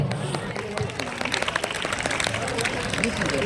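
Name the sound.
audience applause after a performance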